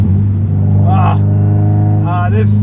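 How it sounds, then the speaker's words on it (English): Turbocharged 1988 Ferrari Mondial coupe with a flat-plane engine, driving: a steady loud engine drone runs throughout, with rising whooshing turbo and blow-off valve swells near the middle and end while someone talks over it. "Those crazy blow-off valve noises, that flat plane sound"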